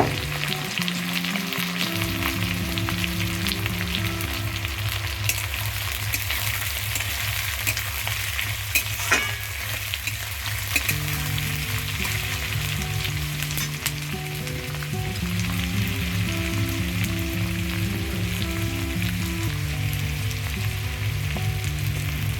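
Sliced onion and a whole garlic bulb fry in a pan with cumin paste for chicken kosha, a loud steady sizzle and crackle up close, with a low hum underneath and no speech.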